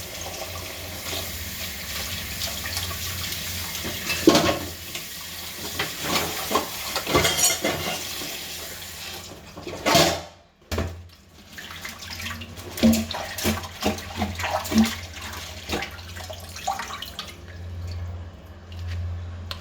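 Palm tubers being rinsed in water, with sloshing, splashing and dripping that come and go for a long stretch, broken by a brief louder splash midway, close by.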